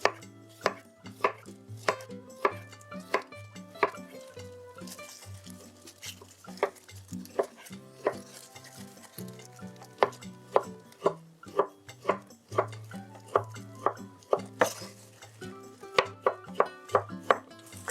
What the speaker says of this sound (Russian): Также средними кубиками режу свеклу.